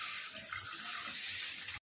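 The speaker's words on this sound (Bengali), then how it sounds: "এবার আমি পরিমাণ মতন জল দিয়ে দেব" Water poured steadily from a tap into a pan of fried spices while cooking paneer do pyaza, a soft continuous splashing stream that stops abruptly.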